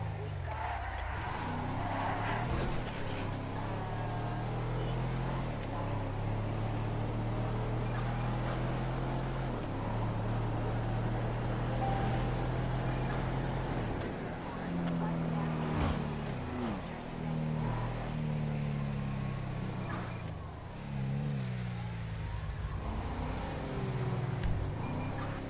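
A low engine drones steadily throughout, its pitch shifting up and down like a vehicle idling and revving, with faint voices mixed in.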